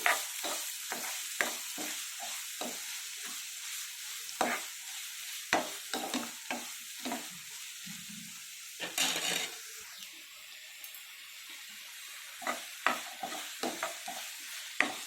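Two medium onions and three green chillies frying in oil for egg bhurji: a quiet sizzle runs underneath while a spatula scrapes and clinks against the pan in frequent, uneven strokes.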